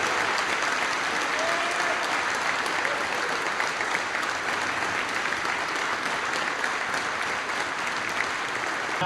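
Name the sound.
gym crowd applause at basketball game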